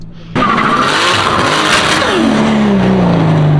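A powerful Nissan Skyline R34 with an RB engine bursts into a loud, close rev on a dyno, holding high and roaring, then the pitch drops as it winds down, with a squeal-like edge.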